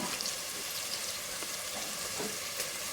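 Spices and salt roasting in a hot pan: a steady close sizzle with faint crackles and soft scraping now and then, and no voices.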